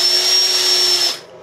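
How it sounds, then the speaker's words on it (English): A power drill whirs at a steady, loud high pitch as it starts boring a hole straight down in a workshop, then cuts off and leaves a faint room hush. "So what I do, I start the drill,"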